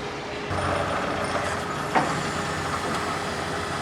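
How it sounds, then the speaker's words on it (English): Forklift engine running steadily in a garage, a loud continuous mechanical drone with a brief clank partway through, no talk. "So we're grabbing the forklift."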